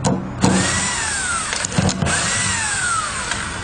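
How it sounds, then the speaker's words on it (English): An electric drill drives screws in two rising-and-falling bursts, motor pitch sweeping as it drives, with short clicks and pauses between runs. "I'm using an electric drill."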